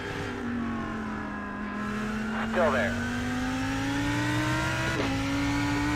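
Race cars in traffic at Daytona in the iRacing 24-hour endurance event: a steady engine drone whose pitch slowly rises, with another car's engine sweeping briefly past and a few quiet spoken words over it.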